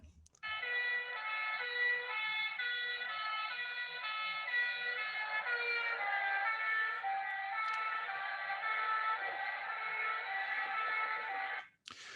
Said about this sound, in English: the siren on that fire truck started off higher pitched, and then as soon as it passed the observer